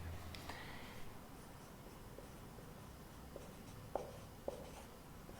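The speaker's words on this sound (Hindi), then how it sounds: "नीचे हम लिखेंगे।" Writing on a board during a lesson: quiet scratching strokes with a few sharper taps as the marker or chalk lifts and lands, faint and close in an otherwise quiet room.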